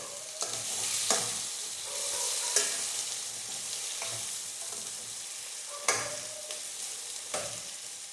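Ridge gourd pieces frying in oil in a pan give a steady sizzle, broken by several sharp scraping clatters as they are stirred.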